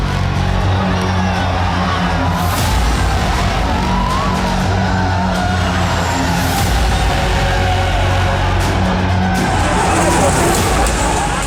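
Tractors race and do stunts on Delhi roads during a farmers' march, a loud, continuous roar of engines and revving with tyre noise and shouting voices mixed in.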